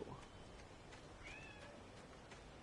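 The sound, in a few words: pet cat meowing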